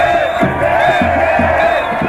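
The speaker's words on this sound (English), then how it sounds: "It's a roar of sound because everyone's so excited and they're singing songs of the revolution" A dense, excited crowd in Tahrir Square, Cairo, roars and chants during a revolutionary celebration, a loud sustained wall of massed voices with rhythmic shouted pulses, close and unbroken throughout.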